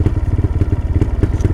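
TVS Rider 125 motorcycle nearly out of petrol, idling with rough, pulsing engine thumps as the throttle is blipped, a close, uneven low rumble with clattery beats.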